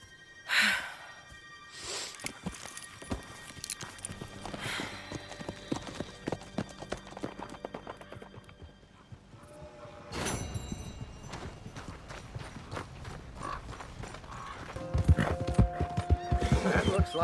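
Horse hooves clip-clop steadily in Red Dead Redemption 2, with an occasional neigh and snort, a faint voice, and the pace quickening toward the end.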